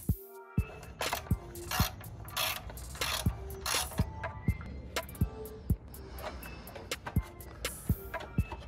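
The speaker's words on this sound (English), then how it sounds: "we're going to take out this O2 sensor and these metal bolts." A hand ratchet works on an O2 sensor and metal bolts of a Mini Cooper Clubman's turbo, a close series of sharp clicking strokes repeating at an uneven rhythm, with metallic ticks between pulls.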